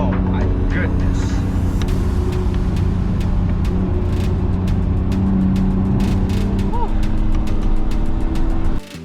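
A 2019 Acura NSX fitted with SOS downpipes and a JB4 tune burbles steadily through its exhaust on a drive, a low continuous rumble with scattered sharp pops and crackles, loud and close, then cutting off abruptly at the end.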